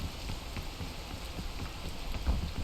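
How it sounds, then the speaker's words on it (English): Steady, even rainfall in a video game, a soft continuous patter with faint scattered drops and no speech. "It is raining after all."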